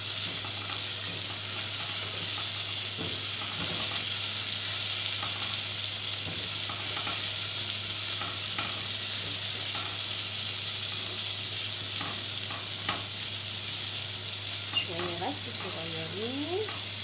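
Garlic sizzles steadily in a hot pan with oil, a constant close frying hiss broken by occasional scrapes and clinks of stirring, while someone talks briefly over it near the end.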